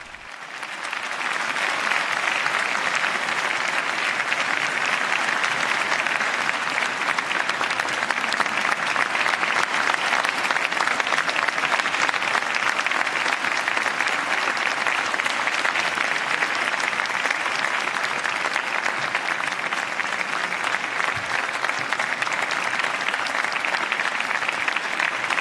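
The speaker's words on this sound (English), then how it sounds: "And we hear the sustained applause for Pope Leo's address to" A large audience gives Pope Leo XIV sustained applause at an official meeting with authorities in Spain, a dense, even roar of clapping that holds steady throughout with no voices.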